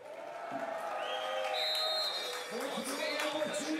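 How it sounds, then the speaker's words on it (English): A crowd of fans at a STIHL Timbersports European Nations Cup event cheers and shouts over sustained background noise, with a commentator talking through it. "So you can hear the crowd going wild for these guys."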